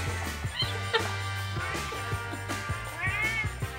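A cat meows a few times over a steady background of music with a low thumping beat.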